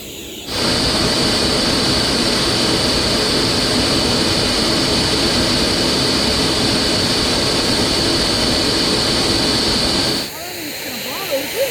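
A turbo burn-barrel jet engine on a jet boat, with wastegate: a loud, steady turbocharged roar with a high whine held for about ten seconds, then cutting off abruptly into quieter background noise.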